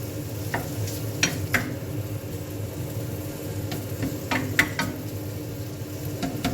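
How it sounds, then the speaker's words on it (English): Garlic and bacon sizzle steadily in a pan, with a few sharp scraping and knocking stirs of a utensil scattered through, close and continuous with no talk. "So there's the garlic and the bacon. And then we'll swizzle this about a bit as it cooks."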